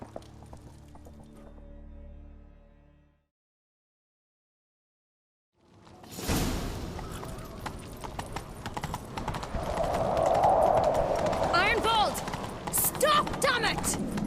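Horses gallop in a chase, rapid hoofbeats pounding loud and close after a brief silence, with a whinny rising over the drumming hooves and some shouted voices mixed in.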